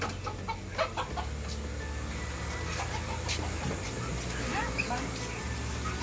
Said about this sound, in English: And duck and rooster.